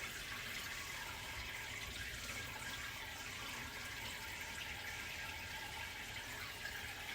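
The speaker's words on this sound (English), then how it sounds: "So now I need to fill this bowl up with water." Tap water runs into a bowl in a home kitchen while Georgian eggplant rolls are being prepared, a steady, faint rushing that continues unbroken with no talking.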